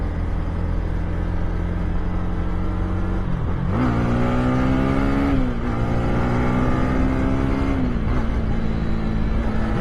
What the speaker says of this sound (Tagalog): Sarap talaga niya, sumisipol talaga yung makina niya.